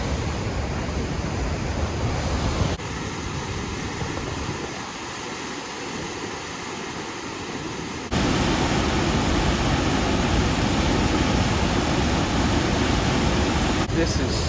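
Very fast-flowing, large waterfall at a remote Ontario camping spot, a dense, steady roar of rushing water heard up close, with wind buffeting the microphone and shifts in loudness as the position changes.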